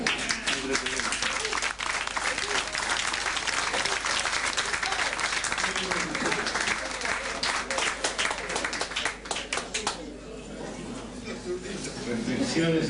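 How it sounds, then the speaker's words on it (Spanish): An audience bursts into sustained applause at a rural reflection group gathering, loud and continuous for most of the stretch, then thinning near the end as voices start talking over the fading claps. "Bueno, vamos a dar otro aplauso, Rufo."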